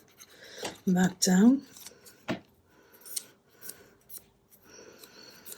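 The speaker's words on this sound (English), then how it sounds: "I've just trimmed another piece here" Scissors trimming thick card for a junk journal, with several crisp snips and scraping cuts between and after bursts of close speech.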